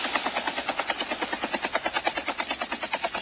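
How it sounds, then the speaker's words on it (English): Helicopter flying in the battle royale mode of the mobile game Call of Duty Mobile, with a steady, rapid rotor chop pulsing evenly throughout at moderate loudness, alone. "Okay, my team is using the helicopter."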